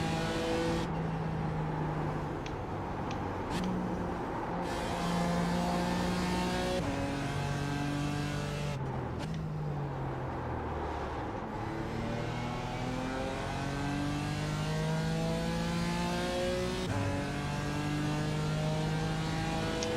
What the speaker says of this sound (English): Love these GT4 cars.